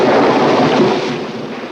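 Thunder from a lightning storm, a loud, deep rumbling roll that starts strong and slowly fades over a second or two, heard alone without voices.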